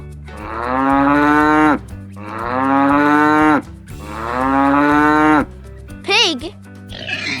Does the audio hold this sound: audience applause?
no